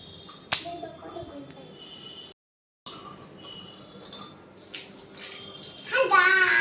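Water splashing as a face is washed, with intermittent pouring and splashes up close, a brief silent gap midway, then a louder burst of running water at the end; a voice talks over it at times.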